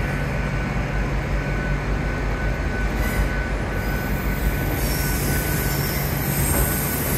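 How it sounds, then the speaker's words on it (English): A train rolls steadily into London Paddington station, its wheels rumbling and faintly squealing on the rails, a continuous loud mechanical roar with no voices. "Oh, there comes a train coming in."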